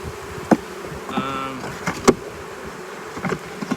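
Honeybees buzzing around a hive during swarming season in California, a faint steady drone with a clearer passing buzz and scattered knocks and taps close by.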